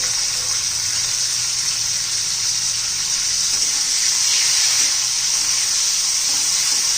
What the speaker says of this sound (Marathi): आता त्यात टोमॅटो घालून घ्यायचा.